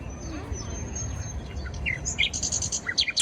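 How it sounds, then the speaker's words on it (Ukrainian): Bright recorded bird chirps and tweets play through speakers at Beylerbeyi Palace in Istanbul, ringing out over a low outdoor hum, growing busier toward the end, with faint talk in the background. "Кажуть, що це не справжнє, що це запис."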